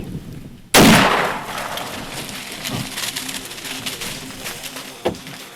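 A single loud rifle gunshot fired at a whitetail buck during a deer hunt cracks sharply and close, followed by a long rolling echo that fades across the woods.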